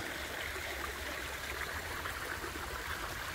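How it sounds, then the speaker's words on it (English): Water flows and gurgles through a flume at Jenks Lake, a steady close-up rushing trickle with faint bubbling and no voices. "it's got a little gurgle there. That's what we're looking for, the gurgle."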